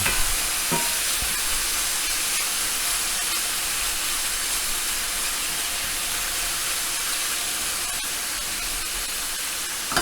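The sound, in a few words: searing venison pieces in a hot skillet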